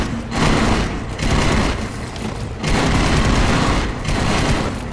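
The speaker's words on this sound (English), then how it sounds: "I guess there are secret explosions inside of them." Explosions in The Expendabros video game come as repeated dense, loud bursts of booming blasts and gunfire-like crackle, pulsing in waves with short dips between them, with no voice over them.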